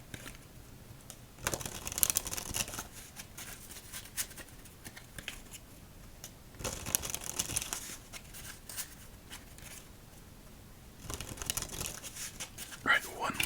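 Crinkling of a snack bag of Lay's Salsa Fresca chips in an ASMR setting, three separate bursts of close, rustling handling with quiet pauses between them.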